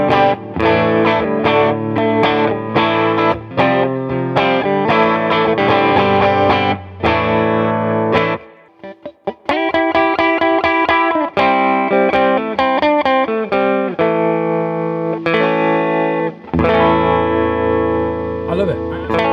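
Electric guitar through a Neural DSP amp plugin on a distorted lead channel, loud sustained chords and picked notes with a brief pause partway, played alone without talk.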